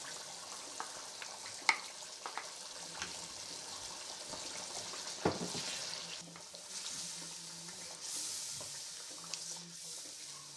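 About half a pav of cream, 125 ml, is stirred and cooked in a karahi for kali mirch cream karahi, with a steady soft sizzle and scattered spoon scrapes and clicks, close and moderately quiet.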